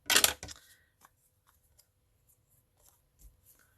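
Scissors cutting card stock for a handmade card: a crisp, close snipping burst at the start, then only faint paper handling and light taps in near silence.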